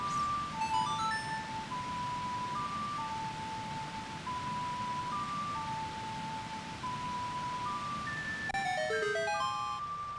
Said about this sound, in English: Boy, Zelda's lullaby here.